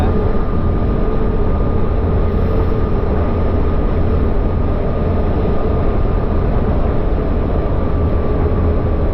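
A Willys Hotchkiss C201 Jeep driven in third gear, a loud, steady, rumbling engine and drivetrain drone with road and wind roar, continuous and unchanging throughout.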